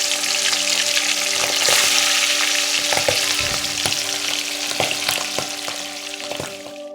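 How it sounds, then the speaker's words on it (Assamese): Fish pieces frying in hot mustard oil in a wok, a steady loud sizzle with sharp crackles and occasional stirring clatter, close and continuous with no talking. "মাছখিনি ভাজিবলৈ কেৰাহীত অলপ মিঠাতেল গৰম হ'ব দিছোঁ। এয়া মাছ কেইপিচমান দি দিলোঁ।"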